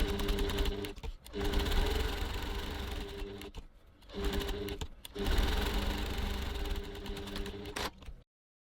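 A sewing machine stitches around a bag strap tab at 3.5 stitch length, running in loud rapid mechanical bursts with short pauses between runs, close up with no talking.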